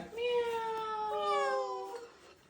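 A young child imitates a cat, giving a long, high, wavering meow-like cry that sounds close and fairly clear before trailing off.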